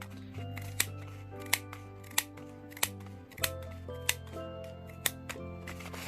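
Sharp scissors snip through paper while cutting out rows of miniature paper leaves for a Halloween village, about eight crisp cuts at a steady, near rhythm over soft tonal background music.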